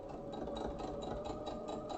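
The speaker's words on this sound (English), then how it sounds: "I'm just going to re-sew that little seam." A sewing machine re-stitches a short seam on a small quilt block, its steady needle hum running close and continuous for a couple of seconds with a faint rhythmic pulse.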